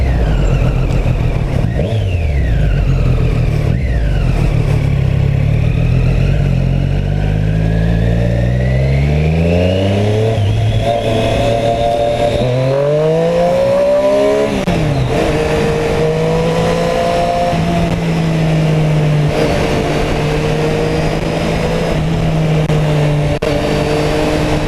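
A Triumph Street Triple RS 765 motorcycle revs hard and accelerates up through the gears with quick upshifts, its loud rising engine note sweeping up again and again before settling to a steady drone, up close with no talk.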